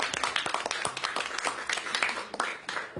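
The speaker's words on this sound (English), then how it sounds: "Let's give them a round of applause, please." Audience applauding the owners of Pearl River Mart during a New York mayoral announcement, sharp close hand claps mixing with a looser patter of clapping from the crowd.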